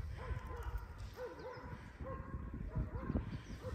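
A small, shrill-voiced dog yaps and whines repeatedly outdoors where leaves are being gathered, short high-pitched barks in an uneven rhythm over a rumbling background, moderately close but not loud.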